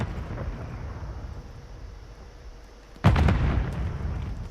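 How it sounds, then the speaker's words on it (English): A stun grenade goes off in a video game, one loud booming blast after a few seconds of low background rumble, then a lingering roar. "Stun grenade out!"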